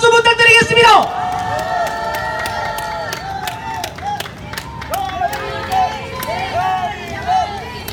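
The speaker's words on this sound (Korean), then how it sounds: "여러분 뜨거운 박수 부탁드리겠습니다." A large crowd at an outdoor political rally in Daegu claps and cheers loudly, a dense burst of applause that eases into continuing clapping and calls under a voice on the PA.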